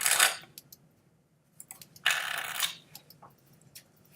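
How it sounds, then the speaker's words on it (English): Playing card sound effects: quick crisp riffles and flicks of cards in short bursts, with a longer shuffle in the middle and scattered small clicks between, close and clear. "Those are card sound effects. This is more cards."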